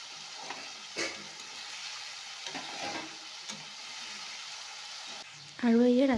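Potato bhaji frying in a pan hisses steadily with soft stirring scrapes and occasional taps, then a brief loud voice-like tone cuts in at the very end.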